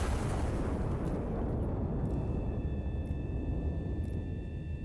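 Artillery gun firing in the IRON NEST video game: one heavy, deep boom at the start that rolls into a long, dense rumble and sustained low roar filling the rest of the stretch.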